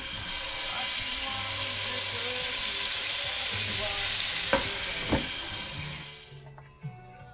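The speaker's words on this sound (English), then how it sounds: "now we're gonna go ahead and get these steaks on the grill while the coals are hot" Steaks sizzle loudly on a grill over hot coals in a dense, steady hiss that holds for several seconds, then stops abruptly, leaving a couple of faint clicks.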